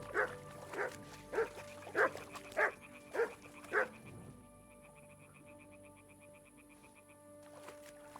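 Mutt the dog barking in the video game Kingdom Come: Deliverance II: seven loud, evenly spaced barks up close, then quieter ambient game sound and music with no talking.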